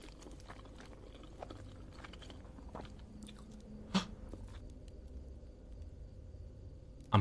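Loud, wet chewing and biting from a character eating in the horror game Fears to Fathom, a steady close-up mastication texture over a low ambient hum, with a sharper crunch near the middle.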